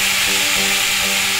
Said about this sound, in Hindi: इसमें अब हम लेमन जूस डालेंगे।